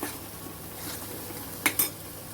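Masala with Kashmiri chili powder being sautéed in a pan for a green brinjal curry, a faint low sizzle under two sharp metallic clinks of a spoon against the pan near the end, no talking.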